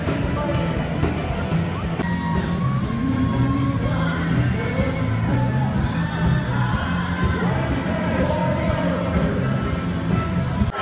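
A large crowd cheers and shouts steadily at the finish of a 3.5-mile outdoor road race, a dense continuous roar of voices with scattered whoops, heard from above.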